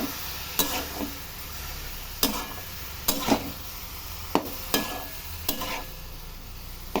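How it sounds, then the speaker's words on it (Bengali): Ground coriander and cumin cooking down with a splash of water in a pan for broccoli curry, a soft steady sizzle under intermittent scraping stirs at an uneven pace, close by with no talking. "অল্প সামান্য জল দিয়ে এগুলো কষিয়ে নিতে হবে।"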